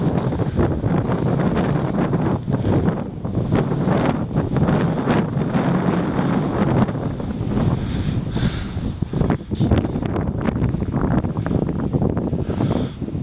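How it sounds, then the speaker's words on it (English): A strong wind blows across a snow-covered spot in the UK at night, roaring and buffeting close against the microphone in continuous gusts with no voices. "That wind is actually getting up a bit. So I hope the audio is okay."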